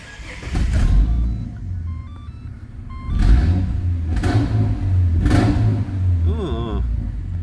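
A Ford AU ute engine with a cat-back exhaust turns over and settles into a low, rumbling idle, steady and close, with a voice speaking briefly near the end.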